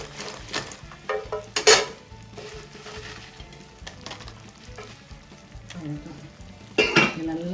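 Fried idli pieces are stirred into a masala in a pan, giving a steady soft sizzle punctuated by scraping strokes and a few sharper clinks of a spoon against the metal.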